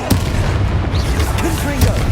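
Incendio fire spell cast in Hogwarts Legacy, heard as a short burst at the start followed by rumbling, crackling combat noise, with a few swooping magical tones and a voice calling out over it.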